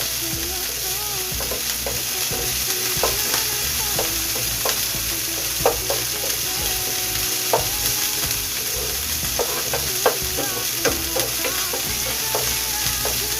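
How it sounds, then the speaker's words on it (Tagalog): Onion and garlic frying in a pan for pancit bato: a loud, continuous sizzle throughout, broken by repeated light clinks and scrapes of a spatula stirring, with no talking. "Luto-lutoin lang natin yung sibuyas at saka bawang"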